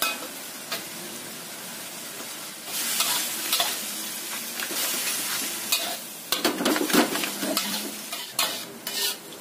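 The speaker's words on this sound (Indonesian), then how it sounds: "Tumis sampai matang." Filling stir-fried in a pan with sweet soy sauce, with continuous soft sizzling and repeated scraping and stirring strokes of a utensil against the pan.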